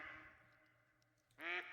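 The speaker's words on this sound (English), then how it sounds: "Why is there so many ducks?" Ducks quacking in theHunter: Call of the Wild at Layton Lakes, a soft sustained call fading out, then a sudden louder burst of quacks near the end.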